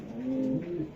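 A racing pigeon gives a soft, close, throaty coo, a single short rolling call with no other sound around it.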